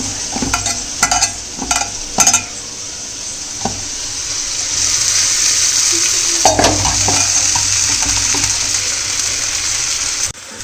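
Poha with turmeric and salt sizzles in a pan under a steady frying hiss, with several sharp scraping stirs early on, close and fairly loud.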